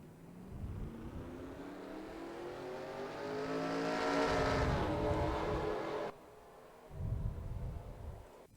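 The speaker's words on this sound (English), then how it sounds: "the pace car is starting to move." Pace car pulling away in NASCAR Racing 2003 at Daytona, its engine note climbing steadily in pitch and loudness before cutting off, followed by a short second burst of engine rumble.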